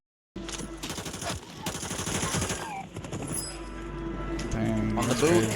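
Rapid automatic gunfire from a Warzone Rebirth match in ranked play, bursts of shots rattling over game sounds with excited voices talking throughout.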